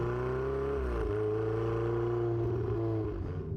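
A Ferrari 488 GTB supercar's deep, steady engine note with a pitch step partway through, sustained and fairly loud, then tapering slightly at the end.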